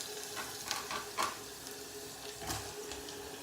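Curry leaves and onion frying in a hot pan for a vegetable curry, a steady soft sizzle with a few brief crackling pops, close and fairly quiet, with no talking.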